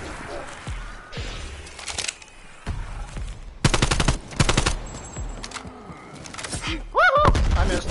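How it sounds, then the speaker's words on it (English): Gunfire in the video game Rush Survival, scattered bursts of shots and thuds in irregular clusters alongside game effects, moderately loud. "We shot at each other."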